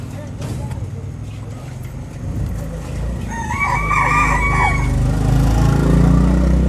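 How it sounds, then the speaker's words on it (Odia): Local desi chickens at a roadside chicken cutting shop in Kalahandi cluck and a rooster crows partway through, heard over someone talking and background street noise with passing traffic. "ଯେନ୍ଟା ଦେଶୀ କୁକୁଡ଼ା ତାମାନେ ଲୋକାଲ୍ଟା ପୁରା ଏବେ କାଟବାକେ ରେଡ଼ି କରୁଛନ୍, ଦେଖୁନ୍।"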